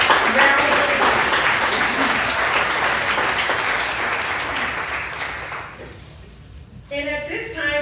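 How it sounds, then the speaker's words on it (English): An audience at a school district bond meeting gives a long round of applause, loud at first and gradually thinning and fading, before a voice briefly speaks up at the very end. "Let's give them a rousing round of applause."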